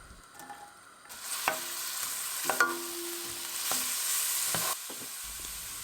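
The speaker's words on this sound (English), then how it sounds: "I'm gonna cut one big onion and going to saute for about 4 or 5 minutes." A big onion sautés in a mix of vegetable and olive oil, giving a soft, close sizzle. A few sharp clinks and scrapes of stirring punctuate it, and the pan noise drops away near the end.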